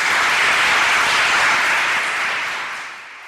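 An audience at a Spanish-language teaching conference applauds a guest speaker, a dense wash of many hands clapping that stays loud for a few seconds and then fades out.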